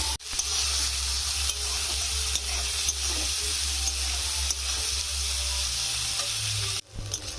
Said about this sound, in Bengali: পেঁয়াজটা আমি খুব সুন্দর করে ভেজে নিয়েছি